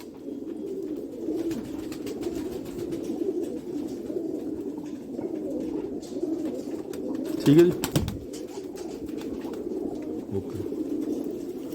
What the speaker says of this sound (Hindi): ये अपने जो गोल्डन कबूतर थे रामपुर के और अपने सियालकोटी कबूतरों को क्रॉस करा के मैंने बनाया